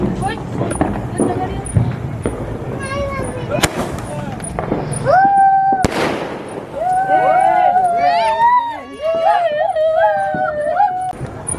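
Diwali firecrackers burst outdoors with a couple of sharp, loud bangs and some whistling amid a busy mix of people talking and a dog howling nearby.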